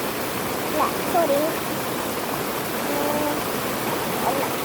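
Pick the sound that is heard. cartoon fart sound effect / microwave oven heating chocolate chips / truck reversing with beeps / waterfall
waterfall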